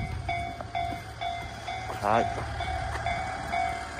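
A two-car train passes a lowered railway crossing, its steady rumble running throughout with a brief rising horn-like whine midway; a voice speaks briefly over it.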